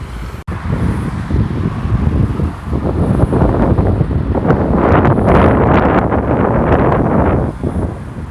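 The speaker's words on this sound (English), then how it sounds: "slight wind or breeze actually blowing" Wind blowing outdoors on a slightly humid morning in Thailand, a steady broadband rush buffeting the microphone for the whole stretch, loud and continuous with a faint traffic-like rumble underneath.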